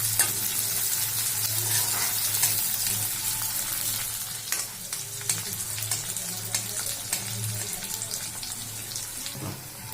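Vegetables being stir-fried and stirred in a pan for veg fried rice, browning lightly, with steady close sizzling and scraping stir strokes throughout, a faint tap-water-like hiss underneath.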